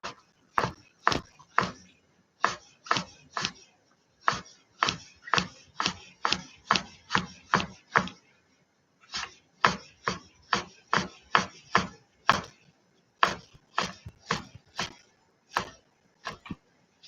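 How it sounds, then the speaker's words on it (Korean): Knife finely julienning tangerine peel on a cutting board, a long run of crisp, rhythmic chopping taps close by with a couple of short pauses, no voices. "귤 껍질은 잘게 채 썹니다."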